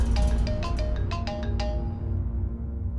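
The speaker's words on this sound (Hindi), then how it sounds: "वॉल्टर वासु का फोन है सर, आप फोन क्यों नहीं उठा रहे?" A mobile phone rings loudly and close by, repeating a bright electronic tone several times in quick bursts before fading out.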